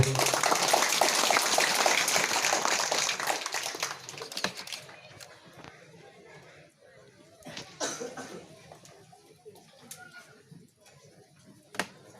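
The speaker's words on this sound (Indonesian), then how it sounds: "Baik, kita berikan tepuk tangan dulu." Crowd at a Catholic church 50th anniversary celebration in Ruilak village gives a burst of applause, loud at first and fading after about four seconds into scattered claps, coughs and murmurs.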